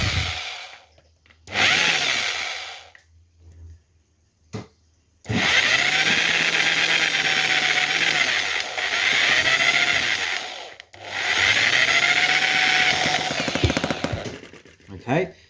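A petrol model gas engine on a Chinese micro tractor is spun over to draw fuel up, giving loud mechanical rattling bursts that start, stop and restart across several long runs, with brief pauses between.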